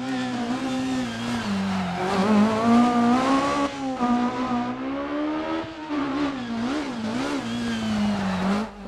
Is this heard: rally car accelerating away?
yes